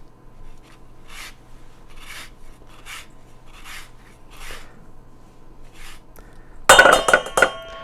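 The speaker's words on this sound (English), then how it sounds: "now we have the zest of these 2 lemons" Lemon zest being grated, a repeated rasping scrape in steady strokes about every half second, ending in a louder burst of clinking and scraping as the grater or bowl is handled.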